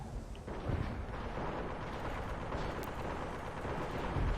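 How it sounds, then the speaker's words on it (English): Artillery bombardment in the WWII strategy game Men of War: Assault Squad, Stalingrad 1942: a steady rumbling barrage of distant booms and blasts with no clear gaps, growing slightly heavier toward the end. "Oh, artillery fire incoming."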